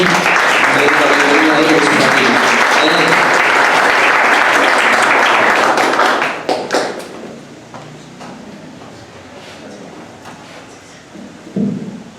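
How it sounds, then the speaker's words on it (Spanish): A church congregation claps loudly and densely for about six seconds, then the applause fades to scattered claps and room murmur, with a final brief burst of clapping near the end. "Así que bienvenido, pastor Iván, demos un aplauso por su vida también."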